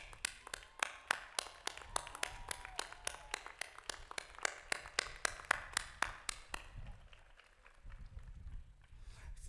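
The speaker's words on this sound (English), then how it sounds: "give them a standing ovation" Graduation audience at a spring commencement giving a standing ovation: a steady run of sharp, separate claps sounding close and distinct for about seven seconds, then fading into softer, diffuse crowd noise.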